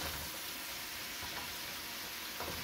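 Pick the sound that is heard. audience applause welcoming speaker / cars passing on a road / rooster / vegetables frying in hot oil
vegetables frying in hot oil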